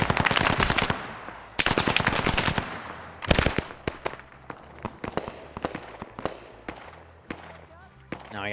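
Gunfire in a tactical military video game, dense machine-gun bursts early, then scattered single shots and short volleys, some close and loud, others distant.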